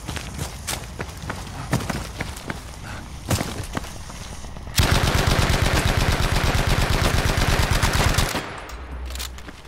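Sustained automatic gunfire from Battlefield V Firestorm, a rapid, loud burst of rounds lasting several seconds after scattered single shots and footsteps, ending abruptly.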